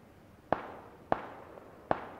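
Three sharp gunshots in the battle royale game PUBG Battlegrounds, evenly spaced single cracks with short decays, moderately loud and alone without talk.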